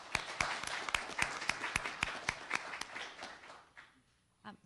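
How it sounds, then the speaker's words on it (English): A small group at Senator Corbett's BRAIN Initiative hearing claps for the first panel, with distinct, evenly spaced hand claps that thin out and fade after about three and a half seconds, followed by one last faint sound. "Let's give a round of applause to the first panel"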